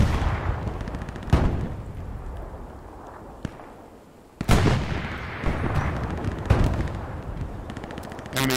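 Artillery shells and gunfire in the World War II shooter Hell Let Loose crash in repeated loud booms with sharp cracks and rumbling decay, while steady gunfire rattles between the impacts.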